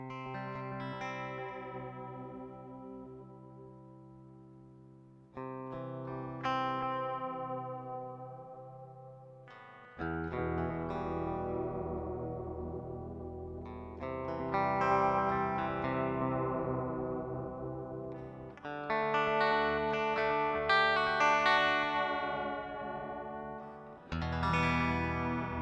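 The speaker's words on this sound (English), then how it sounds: "hearing the out of tune from the Bigsby with the back in tune when I let off of the Bigsby gives me a sort of chorus sound" Electric guitar with a Bigsby vibrato run through delay pedals, sustained chords bending slightly out of tune and back for a wavering chorus-like shimmer, several strummed phrases ringing out with echo tails.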